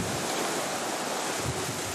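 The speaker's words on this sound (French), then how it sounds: "les rafales se déchaînent et soulèvent les embruns" Strong storm wind gusts roar across a bay in Tahiti, a dense, steady rushing blast of air and spray close to the microphone.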